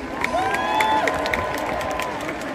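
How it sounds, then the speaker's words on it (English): A university admitted-students day crowd gives a round of applause, steady clapping with some cheering in a large hall, close and continuous. "Students, can we get a round of applause for your family, please?"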